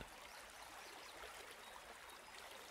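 Soft, steady trickle of water from a small fountain in the woods, faint and continuous with no voices.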